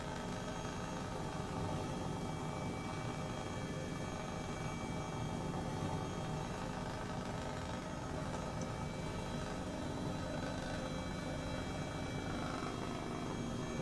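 A Mil Mi-2 helicopter in Microsoft Flight Simulator 2020 hums and drones steadily throughout, a dense, constant rotor and engine roar with no breaks or talking.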